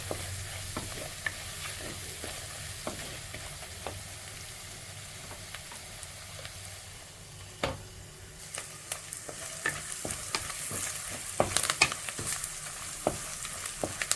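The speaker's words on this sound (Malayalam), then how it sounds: "അടുക്കി പിടിക്കാതിരിക്കാൻ വേണ്ടി നമ്മളിങ്ങനെ ഇളക്കിക്കൊണ്ടേ ഇരിക്കണം" Garlic, ginger and curry leaves frying in a pan for a Kerala-style fish curry are stirred continuously to keep them from sticking: a soft sizzle runs under irregular scraping and tapping of a spoon against the pan, busier and louder toward the end.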